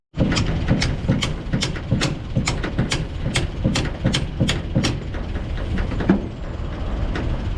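Land Rover gearbox being worked free with the red lever pulled back and clutch held in, a running engine drone under a series of sharp, regularly spaced metallic knocks and clicks, close and steady.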